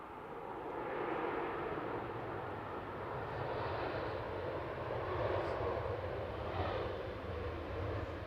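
A Ryanair jet airliner operated by Malta Air touches down, a steady, distant roar of engines and rushing air that holds at an even level throughout.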